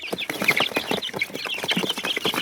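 Dense, continuous peeping and cheeping from many Peruvidai and Siruvidai chicks being packed at close range, with busy overlapping chirps and no talking.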